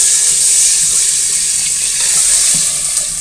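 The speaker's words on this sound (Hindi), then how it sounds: "तो अब हम इसमें पानी डालेंगे।" Water pours steadily and loudly into cooked masala in a pot, a continuous rushing splash with no talk.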